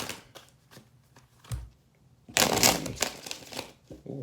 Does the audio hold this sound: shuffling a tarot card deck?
yes